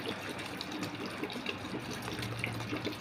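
Water pours into a pan of raw mango chutney with salt, a continuous gushing, splashing flow heard up close for a few seconds with no talk.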